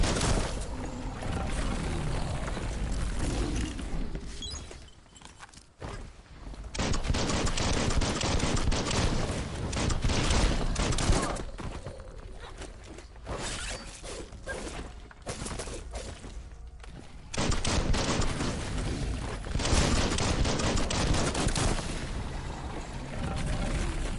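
Relentless video game gunfire in Biomutant, dense bursts and rapid machine-gun volleys with mechanical clatter and shattering, loud and nearly continuous with short lulls between barrages.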